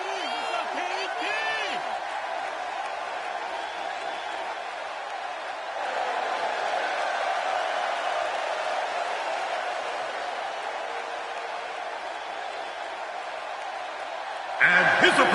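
A capacity crowd roars steadily in a PS4 wrestling video game. The broad crowd noise runs without a break under a voice, with a louder swell near the end.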